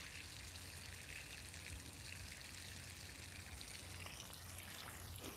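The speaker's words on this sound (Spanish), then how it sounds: "Le tira agua" Water is poured or sprayed while fruit trees are watered in a garden, a soft, steady hiss and trickle that runs faint and continuous throughout.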